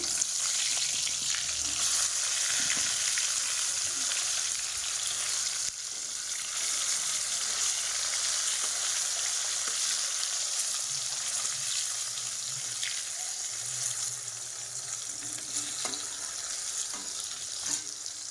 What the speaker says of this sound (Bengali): আবার এই তেলের মধ্যে আমি পটলগুলো দিয়ে দেবো।